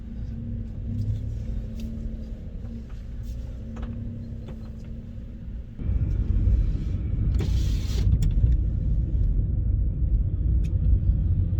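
Car engine and road rumble from inside a vehicle on a sunny mountain drive, steady and close, growing louder midway as it speeds up, with a brief whoosh; no talking.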